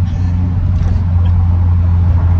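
A 260 hp Nissan S13 accelerates in a straight line, its engine a loud, close, continuous low drone that holds steady throughout.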